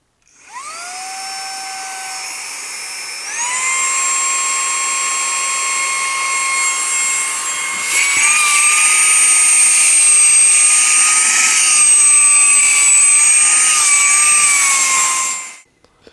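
An XCool cordless vacuum cleaner starts up and runs steadily for about fifteen seconds, a loud high-pitched motor whine that rises in pitch and wavers slightly before cutting off.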